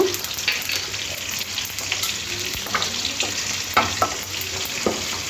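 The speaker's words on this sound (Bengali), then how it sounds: "কড়ার মধ্যে দু চামচ তেল দিয়ে দিয়েছি তেলটাও খুব ভালো গরম করে নিয়েছি এবং ফোড়নের জন্য পাঁচ ফোড়ন দিয়ে দেব" Panch phoron spices crackle in hot oil in a wok, a steady close sizzle broken by sharp scraping and tapping strokes of a spatula stirring the seeds.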